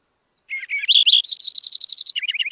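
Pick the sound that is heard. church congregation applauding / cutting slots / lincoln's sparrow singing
lincoln's sparrow singing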